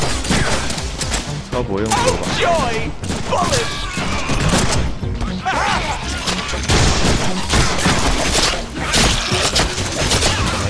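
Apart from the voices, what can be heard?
gunfire in Deadpool video game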